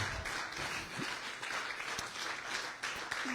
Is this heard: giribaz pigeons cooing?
no